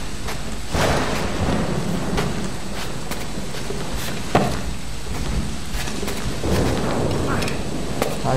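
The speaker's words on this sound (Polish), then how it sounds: "Wow, jaka burza. Natychmiast się zaczęła." Thunderstorm in Assassin's Creed IV Black Flag at a fort, steady rain hiss with rumbling thunder rolls and a sharp crack midway, while someone talks over it.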